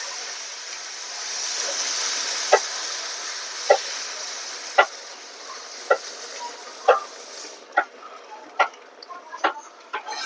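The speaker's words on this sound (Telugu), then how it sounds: "పాలు అయితే పోసేస్తున్నాను." Milk is poured over fried semolina in a pan for rava kesari, producing a loud bubbling sizzle overlaid with sharp, regular scraping strokes about once a second that quicken toward the end.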